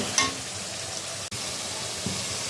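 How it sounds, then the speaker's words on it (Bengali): Whole spices such as cardamom, cinnamon and bay leaf sizzle steadily in hot oil with a masala for mutton kosha, a continuous close frying hiss with a brief stir-like break partway. "এলাচি দারচিনি তেজপাতা দিয়ে মশলাটা কষাচ্ছি"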